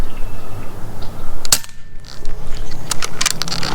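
A Niksan PCP air rifle fires once with a sharp, close crack, followed by a short lull and then a few fainter clicks and rustles.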